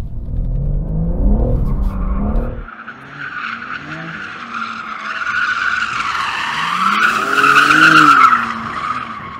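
BMW M3 drifting in second gear with traction aids off, a loud close engine roar under sustained tire squeal and skidding that rises and wavers across the run, briefly easing in the middle before building again.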